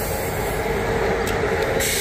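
A passenger train runs along the rails on a journey to Bar, Montenegro, a dense continuous rumbling roar with steady wheel noise close by, no voices.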